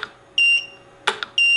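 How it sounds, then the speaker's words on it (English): A remote flash unit beeps each time it recycles, giving short high-pitched electronic tones, two paired beeps separated by a pause with a faint click, close and clear with no talking. "Now I've got this annoying beep every time it's recycled,"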